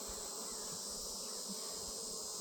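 Honey bees hum steadily at an open backyard hive during an inspection of brood frames and a queen cell, a soft continuous drone with no talk.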